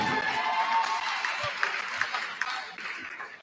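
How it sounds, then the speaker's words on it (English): Crowd applause at a men's college basketball senior night in a gym, moderate clapping that fades gradually over a few seconds, with a few sharp sounds in the background. "Another round of applause"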